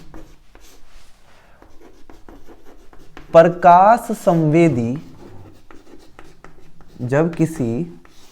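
Chalk or marker scratching out a definition on a classroom board in a physics lesson, soft intermittent strokes close by, interrupted by someone speaking.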